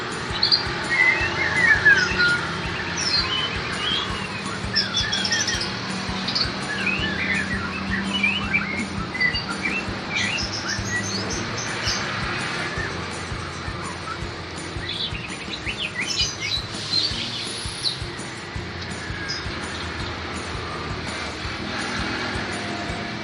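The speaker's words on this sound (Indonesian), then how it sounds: "Terapi burung murai, bukan terapi burung suamiku" A white-rumped shama sings varied, whistled phrases at a moderate distance, amid other chirping birds and a steady low background rumble.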